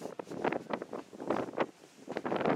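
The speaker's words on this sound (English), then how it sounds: "the wind just comes whistling down it. Very, very windy." Gusty wind buffets and roars in uneven bursts down a narrow channel, heard from a ship's deck, rising and falling in loudness over a couple of seconds.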